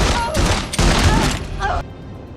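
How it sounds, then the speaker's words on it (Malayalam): Loud, rapid bursts of gunfire in a slasher thriller series scene crack out in quick succession, close and forceful, with a deep rumble beneath them. "കത്തിയുമായി നിൽക്കുന്ന പേജിനെ അവർ അടുത്ത ഒരു നീക്കത്തിന് മുന്നേ വെടിയുതിർത്ത് വീഴ്ത്തുന്നു"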